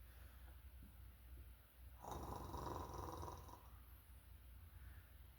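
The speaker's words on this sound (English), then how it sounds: "Satan emitted an animal growl." A low animal growl from the video game ManBeardia rises from a quiet background, swells into a rough, rumbling snarl lasting over a second, then fades back to faint ambience.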